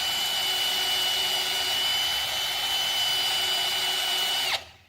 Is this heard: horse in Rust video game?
no